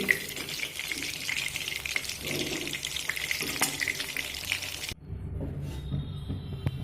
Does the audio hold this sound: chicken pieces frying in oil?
yes